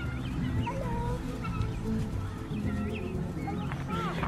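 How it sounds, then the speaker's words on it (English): Chickens cluck and a rooster calls in a farmyard with pigs, ducks and goats, the short clucks repeating over a steady low background with people talking nearby. "You want to go look at the rooster?"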